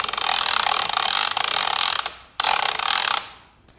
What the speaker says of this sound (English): make sure your machine is ratcheted